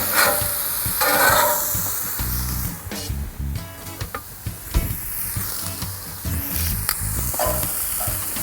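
Onions and peppers sizzling on a grill: a loud, continuous hiss and crackle close up, with scraping and stirring clatter from a utensil midway through.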